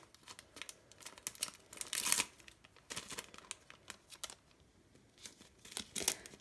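A plastic bag is folded and crinkled close up in a series of sharp, irregular rustling and crackling bursts, with brief quiet gaps between handlings.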